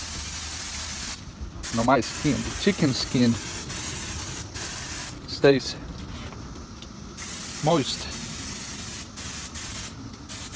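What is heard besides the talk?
cooking spray sprayed onto chicken skin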